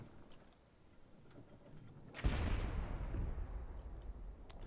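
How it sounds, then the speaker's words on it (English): A ship's mortar fires in the pirate video game Blazing Sails, one loud deep boom partway through followed by a long rumbling roar that stays heavy to the end, after a quieter stretch of faint ticking game sounds. "Fire the mortar."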